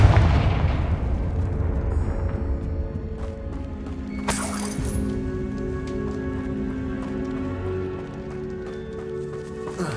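A single sharp Confringo blast spell bursts out midway through a stretch of Hogwarts Legacy, a bright explosive crack standing out over sustained game ambience and musical tones.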